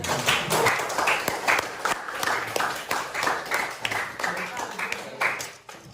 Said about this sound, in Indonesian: kita berikan dulu aplaus ya